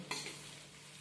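Four chopped onions fry in a pan over a medium gas flame, a soft, even sizzle opening with a brief stirring scrape, fairly faint and with no talking.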